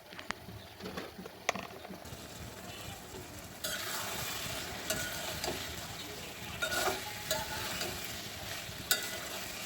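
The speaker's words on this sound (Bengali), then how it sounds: "এখন আমি মশলার মধ্যে মাছগুলো দিয়ে মাছটা ভালো করে কষিয়ে নেব" Taki fish frying in spice paste in a pan, a steady loud sizzle with intermittent scraping stirring strokes, growing louder partway through.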